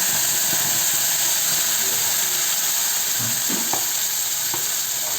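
Tomato puree hitting hot oil with cumin, coriander seeds and asafoetida in a pan for whole moong dal, giving a steady, close sizzle and hiss that runs throughout with a few brief spoon stirs.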